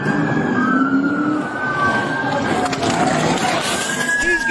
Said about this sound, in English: He's got an ambulance.